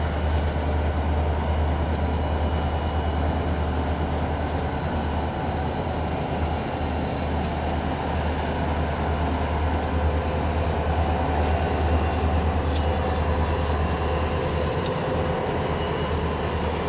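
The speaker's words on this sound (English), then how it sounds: "It is hard to find a better way to start off with two SD40-2s sandwiching a GP40-2 coming into the yard" Freight train led by two SD40-2 locomotives sandwiching a GP40-2 rolling into a rail yard, a steady low diesel rumble and rail noise continuing evenly throughout without voices.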